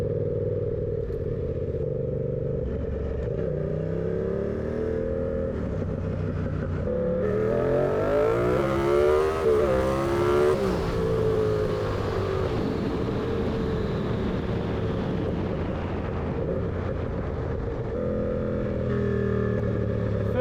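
A turbocharged Yamaha MT-07 motorcycle accelerates hard from a standstill toward 60 mph, its engine note climbing through rising and falling sweeps as it shifts gears, loud and steady, with no talking.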